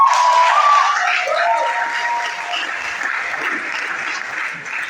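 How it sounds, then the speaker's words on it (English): Audience at a grand reception honouring a literary prize winner breaks into sustained applause, loud at first and tapering slightly, with a few faint voices and a brief tonal whistle-like sound early on. "Please, let's applaud that."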